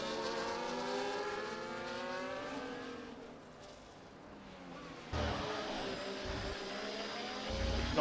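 Formula 1 race car engines in F1 24 at the Singapore Grand Prix, a sustained high-pitched whine rising and falling through gear shifts, with a second engine joining in partway, steady and fairly loud without talk.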